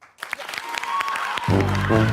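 A live audience claps in response to a quick show-of-hands poll, a dense burst of applause lasting about a second and a half before low music takes over.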